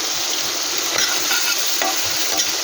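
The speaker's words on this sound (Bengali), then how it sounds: "আমি চিংড়ি মাছটা ভাজছি" Prawns fry in a pan with a steady, loud hiss of sizzling oil and occasional stirring scrapes, close and continuous without voices.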